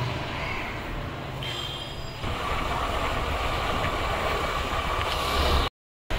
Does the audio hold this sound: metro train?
yes